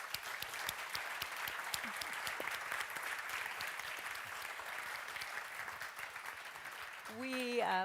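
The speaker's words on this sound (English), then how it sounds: "please join me in giving them a hand of applause" A conference audience applauds panel speakers after a plenary session, steady crisp clapping from many hands throughout, with a voice starting to speak at the very end.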